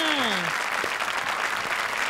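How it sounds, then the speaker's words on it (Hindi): A television comedy-show studio audience in India applauds the judges with steady, dense clapping and crowd noise; a brief rising whistle-like tone rings out at the very start. "जोरदार तालियां हमारे शरारती जजेस के लिए."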